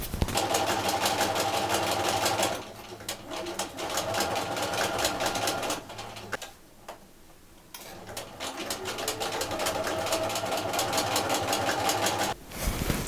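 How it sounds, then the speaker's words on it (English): A sewing machine runs in rapid rhythmic bursts of stitching, pausing briefly between runs, close and fairly loud. "let's go to the sewing machine"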